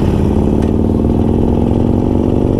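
A 2020 Harley-Davidson Sportster Forty Eight motorcycle engine running close and loud, with a steady, thick throbbing rumble and mechanical clatter that holds even throughout.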